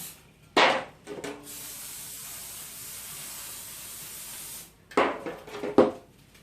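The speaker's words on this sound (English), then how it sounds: "let me spray them with some spray" Two short bursts of cooking oil spray hiss close up, one near the start and another pair of spurts toward the end, with a quiet pause between.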